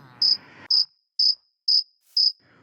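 A cricket chirps five times in an even, steady rhythm, each chirp a bright, high pulse, loud and close in an otherwise quiet setting, after a brief low rumble at the start.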